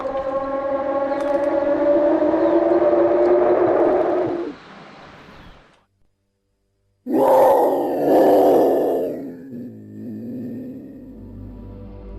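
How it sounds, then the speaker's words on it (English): A supposed leopard roar at a campsite: a long, loud, droning groan holds steady for several seconds, cuts to near silence, then returns as a rougher, rumbling burst that fades out. "the noise does represent a leopard roaring"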